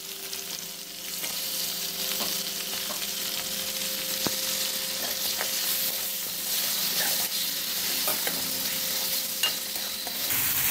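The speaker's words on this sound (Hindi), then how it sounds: "अब मैं ये इसके अंदर चिकन शामिल कर रही हूँ।" Chicken sizzles and fries in a hot pan for chicken nihari while a utensil stirs and scrapes through it at a steady pace.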